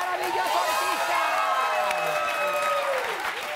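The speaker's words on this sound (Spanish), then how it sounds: "¡Aplauso para este maravilloso artista!" A studio audience applauds and cheers for an arriving artist during a talk-show interview, a steady wash of clapping with scattered whoops, overlapped by voices talking throughout.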